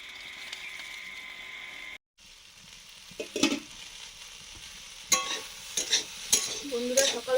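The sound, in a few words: potatoes frying in a pan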